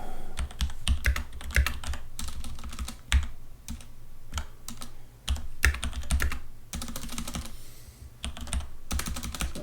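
Fingers type rapidly on a computer keyboard, a close, continuous clatter of quick key taps with a few short pauses between bursts.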